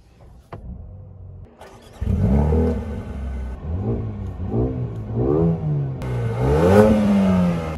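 A Mercedes-AMG A35 sedan, 306 horsepower, fires up after a quiet moment, then its engine revs in repeated rising and falling surges, loud and close, with a sharper high-pitched blip of throttle near the end.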